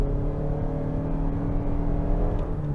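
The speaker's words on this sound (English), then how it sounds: "I can tell the engine is straining to get this vehicle up to speed." A 2023 Lexus RX 350h hybrid under full throttle in normal mode drones with a steady, buzzy engine note heard from inside the cabin, strained and fairly subdued rather than loud, holding constant pitch.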